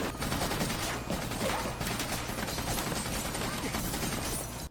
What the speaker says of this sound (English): why would they be shooting at Axel though?